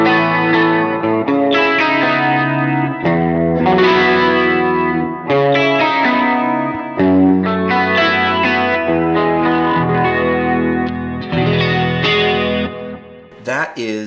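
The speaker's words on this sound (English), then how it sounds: "That is the Ampeg Liquid Chorus. It's my new favorite chorus." Guitar run through an Ampeg Liquid Chorus effect modeled on a Line 6 Helix, with lush, shimmering chorused chords and arpeggios ringing out, close and steady, ending with a brief sweeping flourish.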